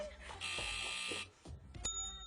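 A game show buzzer or bell rings in a studio quiz segment on a morning TV show, a bright sustained tone lasting about a second, then a second sharp ring near the end, amid studio chatter and people talking.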